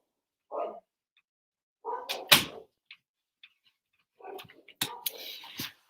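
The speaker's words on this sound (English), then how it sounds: "I'm going to close my door so my dogs are not too loud." Dogs in a home bark and yip in short separate bursts, several sharp calls spaced apart with quiet gaps between, fairly close by.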